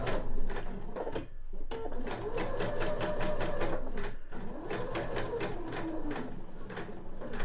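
A sewing machine stitches a curved seam on a fabric eye pillow, running in a steady close-up whir of rapid needle strokes broken by brief pauses where the presser foot is lifted and the fabric turned.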